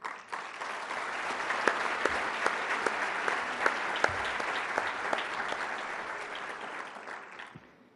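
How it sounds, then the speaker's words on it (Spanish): Applause from the audience at a national security and justice forum, a dense, steady clatter of many hands that holds for several seconds and fades out at the very end. "Un gran esfuerzo del que me es imposible nombrar a todos y cada uno de los que participaron, pero para ellos pido un aplauso."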